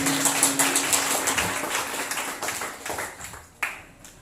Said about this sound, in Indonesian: Tepuk tangan buat kehadiran beliau-beliau.